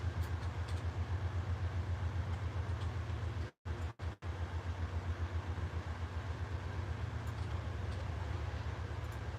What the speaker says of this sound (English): That's a train right there going by.